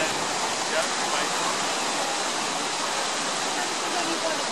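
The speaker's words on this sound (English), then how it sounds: "the ferry crossing to Little Fort and the Great Thompson River, which is flowing quite rapidly." The Great Thompson River runs fast beside the ferry crossing to Little Fort, giving a loud, steady, continuous rush of water that fills the whole clip without a break.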